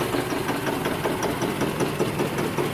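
Toyota Camry engine misfiring with oil in a spark plug well, an uneven rough idle with a rhythmic knocking pulse, steady and close, shifted between drive and reverse.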